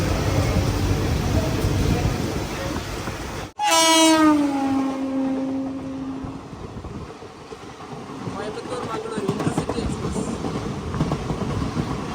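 The Ernad Express runs along the track, its horn sounding once in a loud, long blast that slowly trails off, over the steady rumble and clatter of the moving carriages.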